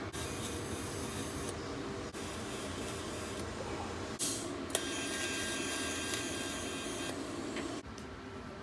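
Steady high-pitched cutting of a steel transmission bracket for a T56 swap in an LS-swapped S550, a continuous whine and hiss running in long bursts with brief pauses, fairly close and loud, no talking.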